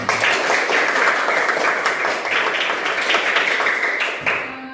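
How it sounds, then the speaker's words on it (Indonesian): Students in a classroom clap for a classmate who has come to the front, a lively burst of many hands, close and loud, that tapers off quickly at the end. "Luar biasa Ramdhani, tepuk tangan."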